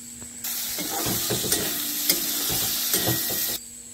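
Potato and onion curry frying in a home kitchen pan, with a continuous loud sizzle and hiss broken by several stirring scrapes, starting and stopping abruptly.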